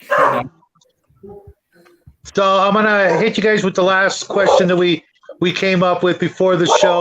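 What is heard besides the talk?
dog barking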